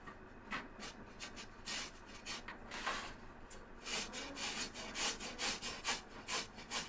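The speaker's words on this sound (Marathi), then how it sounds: "तर मी आता किसून घेते" Raw green mango is grated by hand for gulamba, making repeated close rasping strokes in a steady rhythm, soft but clear with no talking.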